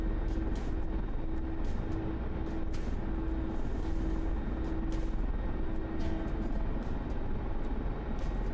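Helicopter in the DCS World flight simulator game, a continuous loud engine and rotor drone with a steady hum and faint rhythmic clicks, holding evenly without pause.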